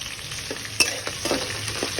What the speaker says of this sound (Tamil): சூடானதும் கடுகு ஆட் பண்ணிக்கலாம்